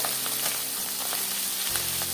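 Small mola fish frying in hot oil in a pan, a dense steady sizzle with crackling bursts, close and continuous, with no voices.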